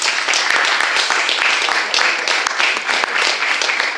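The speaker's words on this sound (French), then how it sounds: "Quand je bois, vous applaudissez." A concert crowd at Lille Saint Sauveur bursts into dense, continuous applause that stays loud and steady throughout, a thick wash of many hands clapping together.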